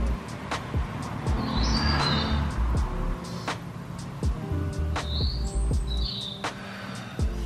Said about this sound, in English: The birds are singing so loudly today, I hope you can hear them.